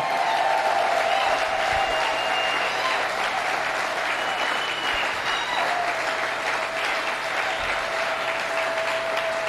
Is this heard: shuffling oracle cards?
no